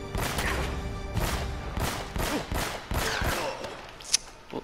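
Repeated bursts of gunfire in Uncharted: Drake's Fortune, loud sharp shots in quick clusters with brief pauses between, a final crack near the end.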